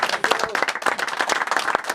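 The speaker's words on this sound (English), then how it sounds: "give yourselves a big round of applause for coming to join us" Audience applause at a live comedy and entertainment show, a dense, steady wash of many hands clapping close by, with no talk over it.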